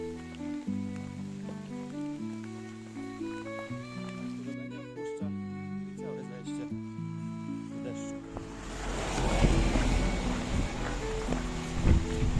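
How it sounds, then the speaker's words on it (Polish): Rain during a mountain hike in the Silesian Beskids, heard as a broad, rushing patter that swells in over the last few seconds after a stretch of melodic music, fairly loud and close. "Pogoda jednak nie odpuszcza i całe zajście w deszczu."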